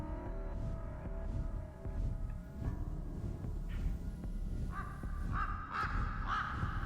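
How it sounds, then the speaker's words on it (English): Crows caw in the horror video game Rise of Insanity: several harsh, repeated calls arrive in the second half over a low, droning ambient hum. "More birds!"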